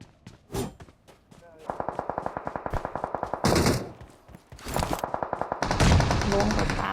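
Gunfire from the PUBG video game: a single shot, then rapid bursts of automatic fire with sharp, evenly spaced cracks, ending in heavier overlapping volleys, with voices talking in between.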